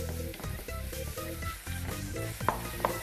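Onions frying in oil while being stirred, a close sizzle broken by rhythmic scraping and stirring strokes, with a couple of sharper clinks near the end.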